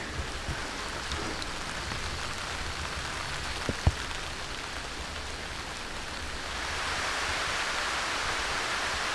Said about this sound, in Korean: 갑자기 비가 다시 내리기 시작했습니다